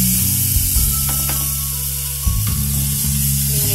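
Ground masala paste frying in oil in a pan for paneer butter masala, giving a steady close sizzle with faint stirring scrapes, and no talking.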